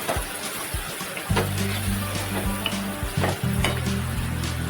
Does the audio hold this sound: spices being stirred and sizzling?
yes